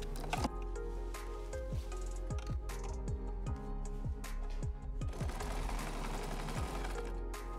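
Sewing machine stitching a seam on a four-panel petticoat, running steadily with a rhythmic mechanical whir and regular ticking of the needle, quiet and close, with a busier stretch near the end and no speech.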